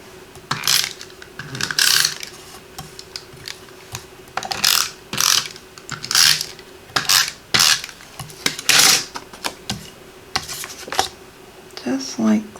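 Snail adhesive tape runner pressed and pulled across card stock, giving a series of short ratcheting clicks and zips in irregular bursts, close and fairly loud, with brief pauses between strokes.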